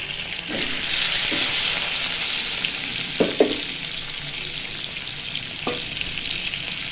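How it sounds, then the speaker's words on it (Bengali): Tilapia fish frying in hot oil, a steady loud sizzle that holds throughout, with a few faint knocks and scrapes of a utensil against the pan, no talk. "তেল গরম হয়ে গেছে, এখন মাছগুলো ভেজে নিব।"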